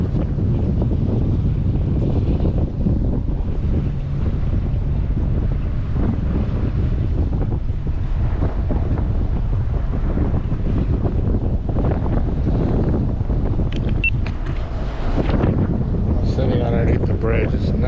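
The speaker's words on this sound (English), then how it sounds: "See all those waves? It's windy." Wind buffets the microphone on a river while waves slap nearby, making a loud, continuous rumble that runs through the whole stretch without a break.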